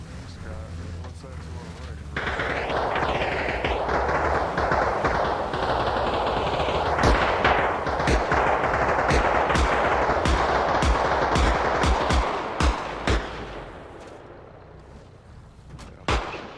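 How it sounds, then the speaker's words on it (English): Sustained gunfire in the video game ARMA Reforger, US forces fighting insurgents in a valley, with dense rattling bursts and sharp individual shots cracking throughout, loud and continuous before thinning out toward the end. "Shots into the trees."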